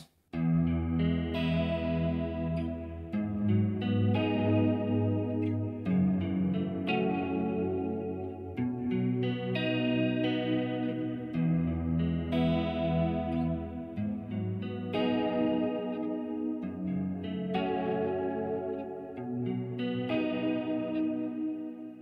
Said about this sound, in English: Here's a chorus.